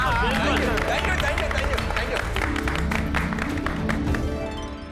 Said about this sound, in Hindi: हमारे देश के सभी साइंटिस्टों के लिए एक बार जोरदार तालियां हो जाए।